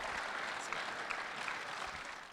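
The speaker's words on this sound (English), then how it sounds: "Let's give Andy a big round of applause for a monster West Michigan buck." An audience claps steadily in a continuous wash of applause at an outdoor-show buck-recognition event, heard at a modest distance with no voices on top.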